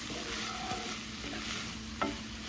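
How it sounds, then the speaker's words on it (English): A cup and a half of rice goes into a hot frying pan for a western casserole and is stirred, giving a continuous sizzle with scraping stirs and a sharper clatter near the end, no talking. "I'm going in with my cup and a half of rice."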